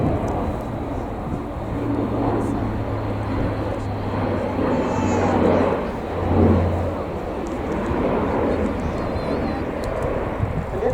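An Airbus A400M military transport aircraft flies a display at an airshow, its turboprop engines giving a steady, broad roar that swells and fades slightly as it manoeuvres, with no voices present.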